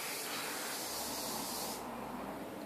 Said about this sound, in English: So I always make sure that I hairspray away from the face.